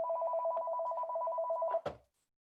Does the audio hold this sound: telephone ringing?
yes